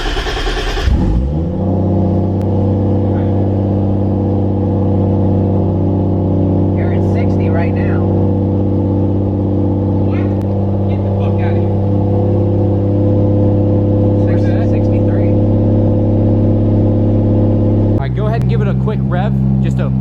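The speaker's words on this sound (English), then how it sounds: "So let's go ahead and turn on the car here and see how it goes." A Toyota Supra running on E85 fuel starts up and settles into a loud, steady idle with a deep rumble, then a sharp rev near the end; faint voices come through over the engine.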